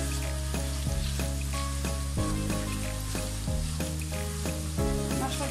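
Spice paste of chili powder and salt, with no turmeric, fries in a pan for prawn curry, giving a steady, soft sizzle under background music.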